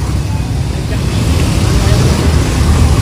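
Busy road traffic in Manila makes a dense, loud, continuous rumble and roar of many vehicles close by, with people talking over it.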